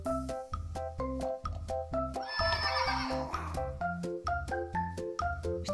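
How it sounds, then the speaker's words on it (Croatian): A horse neighs loudly once in the middle of a bouncy children's farm-animal tune, whose steady plucked and bass notes play throughout. "Sljedeća životinja koja se ukrcava na arku je konj."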